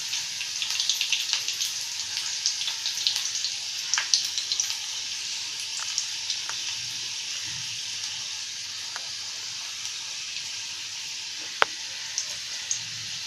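Chopped garlic frying in a pan for a spicy Bombay duck fish curry, a steady soft sizzle and crackle with small pops that holds evenly throughout, close and moderately loud, no talking.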